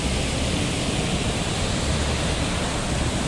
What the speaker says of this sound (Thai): น้ำตกใหญ่พอสมควร